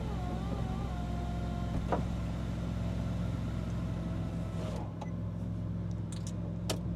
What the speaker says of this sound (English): we're just going to close the roof now so you can see how the car looks with its roof shut